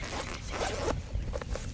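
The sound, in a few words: heavy duty zipper on Maxpedition Condor II backpack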